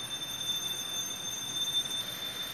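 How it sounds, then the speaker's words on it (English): An electric bell sealed inside a glass bell jar runs on a power supply, giving a faint, steady, continuous ringing tone with no talk. "I've got a bell in a bell jar. It's running right now, connected to the power supply."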